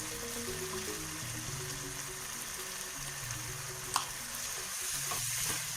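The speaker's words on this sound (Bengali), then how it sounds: "দেখুন চিকেন কিন্তু খুব সুন্দর কষা হচ্ছে, তেল ছেড়ে বেরিয়ে আসছে" Chicken pieces frying and sizzling in released oil as they are sautéed, a steady broadband crackle throughout with a single sharp utensil tap near the middle and some louder bubbling toward the end.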